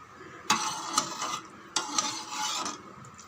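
Sago being stirred in boiling water in a pot: sharp scraping strokes come in two clusters, each opening with a hard scrape and followed by softer rubbing, close and without talk.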